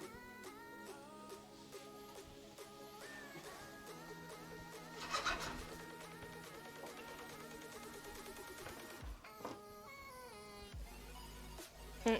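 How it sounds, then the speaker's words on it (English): A cat meows along to a song playing indoors, its calls mixed into the steady harmonic music that fills the whole stretch. "My cat is meowing along to this song."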